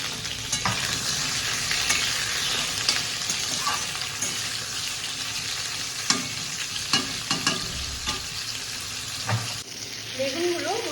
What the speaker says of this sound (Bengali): বেগুনগুলো মোটামুটি কষানো হয়ে গেছে